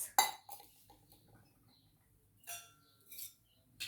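Kitchen vessels, including a jug, tub, glass, bowl and pot, are handled close by, giving a few sharp clinks and knocks separated by quiet gaps.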